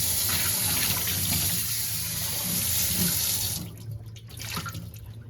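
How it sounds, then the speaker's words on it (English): Cold water pours from a kitchen tap into a sink, steady and close while rinsing a Le Creuset Dutch oven, then the flow breaks up and splashes unevenly as it tapers off. "I'll use a little cold water for the final rinse."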